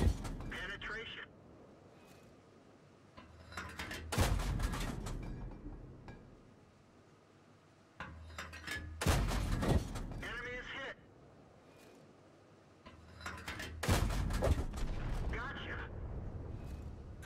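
Tank cannon fire in the World of Tanks game: three loud, booming shots come at spaced intervals, each followed by a rumbling decay, with a voice speaking between them.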